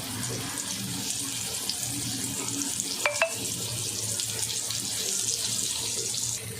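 Masala-marinated vam fish sizzles in hot oil over a medium flame, a steady, close, hissing fry that runs throughout with a brief metallic clink partway through.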